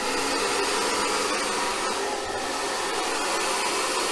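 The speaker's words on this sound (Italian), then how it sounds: "a questo punto accendiamo il phon. Prima posizione, aria fredda." A hair dryer runs on its first, cold-air setting, powered from a Bluetti AC200P power station, a steady loud broadband whoosh of fan noise that holds evenly throughout with no talk.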